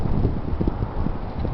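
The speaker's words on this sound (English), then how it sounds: "We do got a pretty good wind too." Strong outdoor wind buffeting the microphone in cold weather, a steady low rumbling roar with gusty thumps and no talk.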